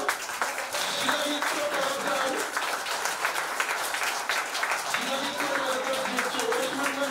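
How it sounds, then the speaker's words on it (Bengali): Audience applause for a newly selected West Bengal Police constable at a felicitation ceremony: dense, steady clapping fills the whole stretch, with a few voices mixed in. "জোরে হাততালি আপনার জন্য।"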